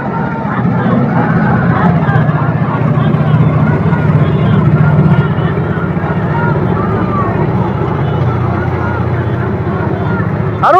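A traditional boat race on the Kaliganga river, with a steady dense roar of crowd noise and rowing activity filling the air continuously, loud and constant, with a faint voice calling out over it.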